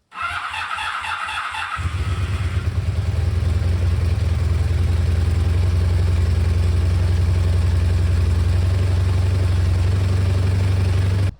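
A 1982 Honda VF750S motorcycle engine runs steadily after a brief higher-pitched start, a loud, close, continuous rumble while the bike is ridden.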